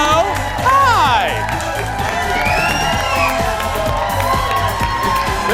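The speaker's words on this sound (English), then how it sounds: "There's our Monday crowd." A studio audience cheers loudly and continuously, with whoops and shouting layered over a dense crowd roar. Scattered clapping runs through the cheering.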